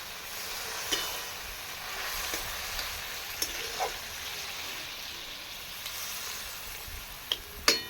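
Water added to a pan of simmering kochu loti (taro stolon) curry with fish heads gives a faint, steady sizzle, with a few soft clicks and taps scattered throughout.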